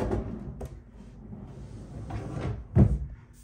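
A deep drawer in a certified tiny house slides along its runners with a soft rumble, then shuts with one firm, close knock.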